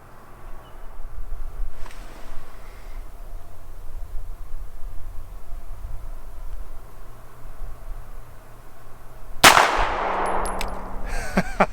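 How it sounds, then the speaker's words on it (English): A single S&W 5904 pistol fires at a target at 20 feet. The sharp crack comes near the end after steady outdoor background noise, followed by a metallic ringing tail. "that 20-foot tack driving shot was fired using the double action trigger on the 5904"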